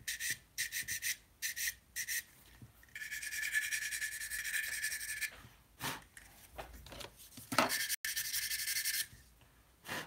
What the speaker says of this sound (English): I am using sanding sticks for this.